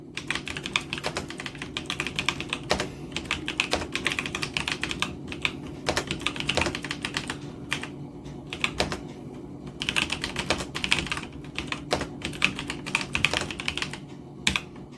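Rapid, steady typing on a computer keyboard while names are entered, with dense clicking keystrokes running through the whole stretch, close and fairly loud, with no talking.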